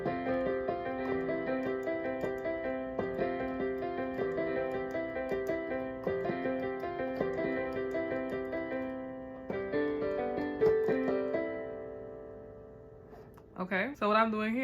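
Piano arpeggiating suspended chords in a gospel style, rolling steady broken-chord figures at moderate volume, close and clear, with a voice briefly entering near the end.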